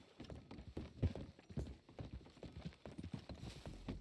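In the Red Dead game, horses come trotting in with a quiet run of clip-clopping hooves, fairly soft and irregular, with no talk.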